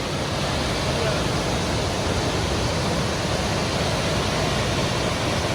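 Waterfall at Letchworth Park roaring as a constant, dense wash of falling water, loud and unbroken throughout, with no voices heard.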